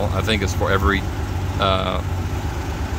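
Honda Goldwing GL1500 motorcycle engine idling warm with a steady low rumble beneath someone talking nearby.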